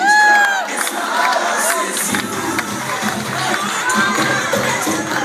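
Crowd at a children's end-of-year show cheering and shouting, with excited kids' voices and whoops rising over a busy, continuous din that stays loud throughout.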